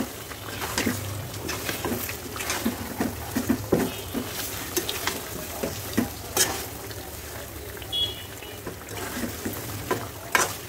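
Chicken frying in a pan with black pepper, nutmeg and mace, stirred steadily with a spoon, giving a constant sizzle broken by frequent scraping taps, close and moderately loud.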